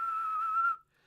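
A person whistles one steady high sustained note for under a second, clear and close, then it cuts off into near silence.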